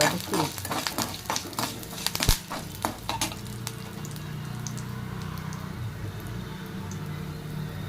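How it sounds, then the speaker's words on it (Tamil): Mustard seeds and urad dal are tossed into hot oil for carrot thoran. Sharp crackles and pops come close up at first, then give way to a steady sizzle, with a voice speaking lightly over it. "எண்ணெய் விட்டு கடுகு உளுத்தம்பருப்பையும் போட்டு ஒரு வதக்கி"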